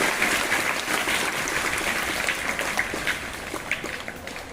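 A crowd claps steadily for Madhusudan Reddy at a government primary school event in Srinivaspur, the applause dense and sustained throughout with no voices over it.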